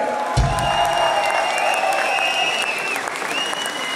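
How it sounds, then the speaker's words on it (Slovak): Audience applause for a second-place kumite award winner at a karate ceremony, steady and fairly loud, with a faint voice and a high tone running under the clapping. "veľký potlesk!"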